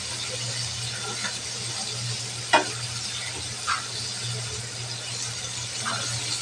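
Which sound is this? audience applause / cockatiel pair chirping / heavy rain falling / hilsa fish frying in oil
hilsa fish frying in oil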